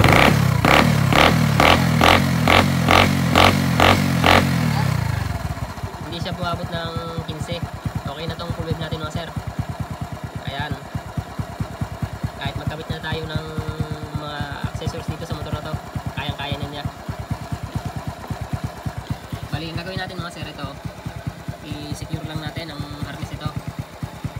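A motorcycle engine, fitted with a fullwave charging setup, revs in a loud burst of pulsing strokes and then settles into a steady idle throughout, with a person talking over the idle.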